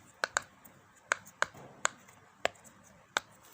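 Sharp plastic clicks from a phone case, seven or eight of them, sometimes in quick pairs, close up and fairly quiet over a low background hiss.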